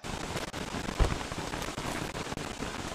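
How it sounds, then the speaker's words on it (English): Steady rain in the survival game Don't Starve crossed with Terraria, a dense even hiss of falling drops heard up close and alone, with a brief thump near the middle. "rain is just really annoying"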